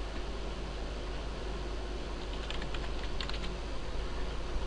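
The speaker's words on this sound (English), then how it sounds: "And now type in your username. And type in your password." A computer keyboard typing a username and password during account sign-up, brief light clusters of keystrokes heard faintly over a constant loud hiss of background noise.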